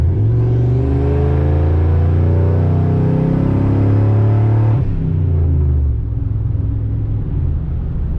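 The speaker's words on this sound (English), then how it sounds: "Let's just see how it handles a downshift from 40 here." Single-turbo Ford F-150 pickup downshifting from about 40 mph on a street, a loud continuous engine roar with rising harmonics for several seconds, then a sudden drop in pitch and load into a lower, steadier rumble.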